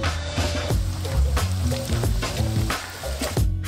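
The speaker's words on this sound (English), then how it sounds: "We take a big thing of oil and we put a saucepan on the stove and fill it up with oil. When it is heated, we lower all of the shrimp in." Shrimp deep frying in a saucepan of hot oil give a loud, steady, close sizzle and crackle throughout, with faint tonal music underneath.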